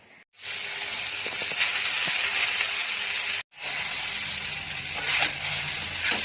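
Chow mein frying in a pan gives a loud, steady sizzle and hiss with light stirring scrapes, broken by a brief silent gap before the frying resumes close up.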